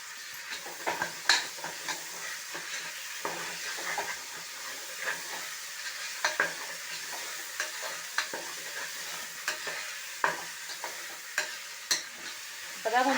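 Onions with a little salt sauté in a pan for mutton biryani, a soft steady sizzle broken by frequent scraping stirs and small clinks, close and fairly quiet with no talking.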